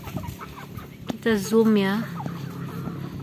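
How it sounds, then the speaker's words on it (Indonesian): Chickens cluck while being fed outdoors in the late afternoon in front of a house, short calls scattered through the clip with one louder drawn-out call in the middle, and a person speaking briefly. "Sambil kasih makan ayam."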